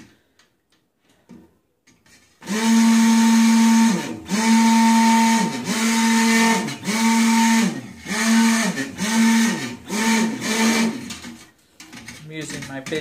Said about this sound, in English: You can always fast forward through the blending part.